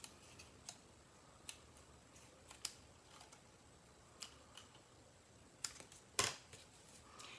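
Scissors trim the bottom off a paper piece for a stamped birthday card, making a scattering of faint, sharp snips and clicks spaced irregularly, with one louder cut near the end in a quiet room.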